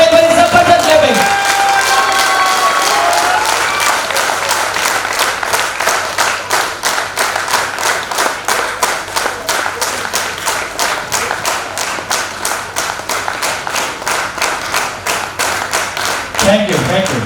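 A seminar audience at the Red Cross Bhawan in Jalandhar breaks into loud, sustained applause, a dense wash of clapping that settles into steady rhythmic claps and carries on for most of the stretch before a brief voice at the end.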